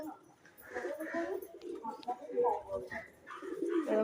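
A pigeon gives soft, repeated cooing calls at close range while someone talks over them.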